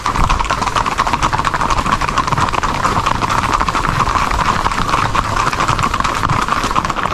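A horse ridden along Road 429 in Puerto Rico beats out a fast, even clip-clop of hooves on pavement, loud and close, with a continuous steady rhythm and no talking.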